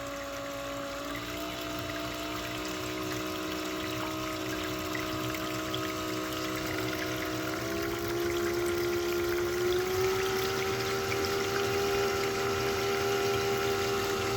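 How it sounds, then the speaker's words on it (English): Steady water pouring and trickling through a sluice used to wash beach sand on the Lake Michigan shore, a continuous close flow with a pump-like hum, no voices. "Looks like it might need just a little more water flow."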